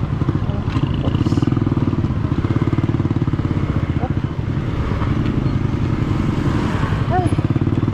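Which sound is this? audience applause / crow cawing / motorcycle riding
motorcycle riding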